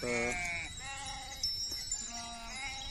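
Sheep and lambs bleating on a farm, several wavering cries overlapping and trading off in quick succession, fairly close and moderately loud, with faint background sounds between calls.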